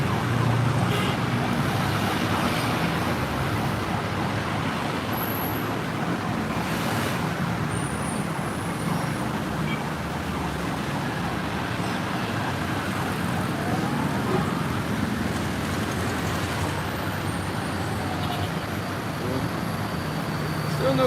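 An ambulance siren wails through steady, dense traffic noise in the Philippines, with engines and scooters humming continuously throughout.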